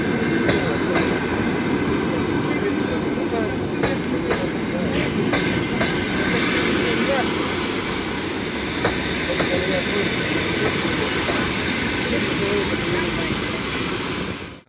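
A Russian Railways train rolls by close and loud, a steady heavy rumble with rhythmic clacks from the rails and a hiss above it, lasting throughout.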